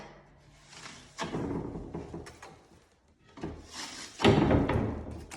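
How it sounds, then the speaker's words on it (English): A drywall taping knife skips across sheetrock joint compound while texturing a wall, giving two bursts of rough, scraping swipes with quieter pauses between them, fairly close. "you're just gonna let your knife skip over the board"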